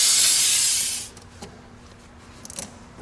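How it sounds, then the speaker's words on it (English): Brake cleaner aerosol hisses loudly in one steady spray for about a second during a brake fluid job, then cuts off, leaving faint rustling and small knocks. "This is brake cleaner, by the way."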